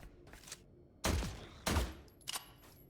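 Gunfire in The Last Caretaker: a few sharp, close shots spaced apart, with two heavy booming reports in the middle and fainter pops before and after.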